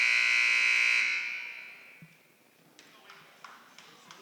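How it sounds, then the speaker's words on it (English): A loud, harsh electronic buzzer sounds in a gym during a girls' high school basketball game, holding steady for about a second before fading, followed by faint shoe squeaks and dribbling taps. "First buzzer sounds, calling the players back to the floor."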